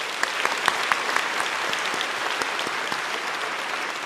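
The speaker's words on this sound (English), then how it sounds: "Let's give a big round of applause to our incredible staff for making this evening possible." Steady applause from a large crowd at a formal evening dinner event, dense and continuous clapping throughout with no talking over it.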